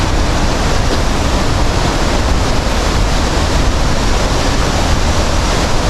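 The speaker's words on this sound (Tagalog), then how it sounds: "Ala, yan ang falls." A waterfall in a forested area makes a loud, unbroken roar of rushing water, dense and close, with no voices over it.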